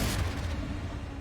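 A Confringo fire-blast spell in a Hogwarts video game erupts as a loud, dense burst of roaring noise that fills the whole moment and slowly thins as it fades.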